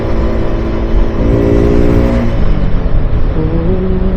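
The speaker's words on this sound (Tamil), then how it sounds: "இப்போ இந்த டியூக்கு கேடிஎம்ல ஃபர்ஸ்ட் டைம் உட்காந்துட்டு ஆக்சிலேட்டர் கொடுக்கும்போது ஒரு மாதிரி இழுக்கும் தெரியுமா" A KTM Duke motorcycle accelerates, its engine roaring loud and close with a dense, rising growl that shifts pitch partway through and holds strong to the end.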